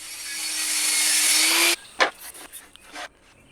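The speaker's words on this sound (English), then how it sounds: "I'm cutting a slot about an inch into two of the pieces" A power tool whines steadily as it cuts a slot about an inch into a wooden piece, then stops, followed by a few knocks and clunks of wood being handled.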